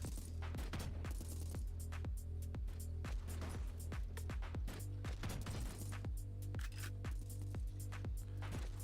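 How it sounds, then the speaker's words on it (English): Rapid machine gun fire in a video game crackles as a dense, regular stream of shots over a steady low hum, continuous for the whole stretch. "Oh, they have the machine gun?"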